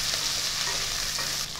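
A short stretch of chotpoti ingredients frying in a pan, a dense, even sizzle up close with faint stirring underneath and no speech.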